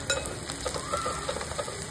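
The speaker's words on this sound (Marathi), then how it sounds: "सगळं छान मिक्स करून घेऊया" Onion tempering with cumin and mustard seeds being stirred in hot oil, a close sizzle broken by repeated spoon scrapes against the pan.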